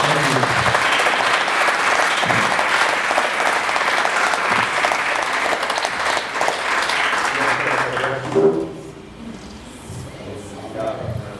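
A breakfast gathering audience at St Benedict's applauds for a speaker in a long, full round of clapping that fades after about eight seconds, leaving a voice speaking alone.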